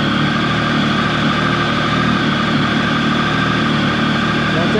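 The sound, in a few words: Triumph 1050 motorcycle engine high idle after cold start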